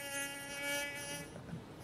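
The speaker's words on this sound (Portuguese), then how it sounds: "Chegou atrasado o mosquito, bicho." A mosquito buzzes close by in a steady high whine that holds for over a second, then thins out and fades.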